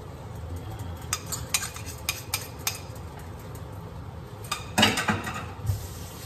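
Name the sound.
egg added to sautéed eggplant in a pan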